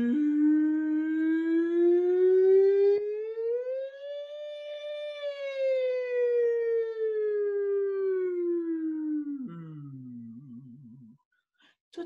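A voice imitates a siren warm-up, a sustained sung tone sliding up and gliding back down for about ten seconds, ending in a wavering low warble, loud and alone with no other sound.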